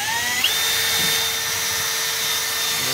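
A power drill bores a hole for an HVAC register, running as one loud, steady, high whine that holds level for about three seconds.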